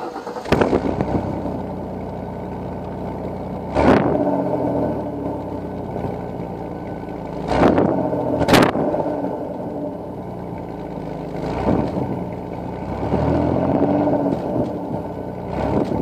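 A 1993 Ford Taurus GL with a modified exhaust, drilled with holes, idles roughly and then revs in several sharp, loud bursts spaced across the recording, with no talking.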